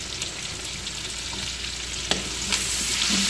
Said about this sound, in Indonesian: ilalagay na natin itong bawang